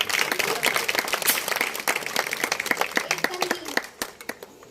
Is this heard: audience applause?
yes